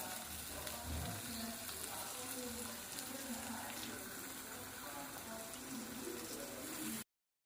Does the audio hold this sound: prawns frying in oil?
yes